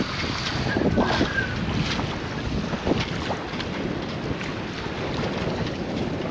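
A reefed sailboat heels on a beam reach under mainsail alone in winds of 20 mph gusting to 34. A steady, loud roar of wind buffeting the microphone blends with rushing water throughout, and no one speaks.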